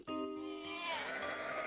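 A sheep on a farm bleats during shearing, one long wavering cry heard up close over faint background noise.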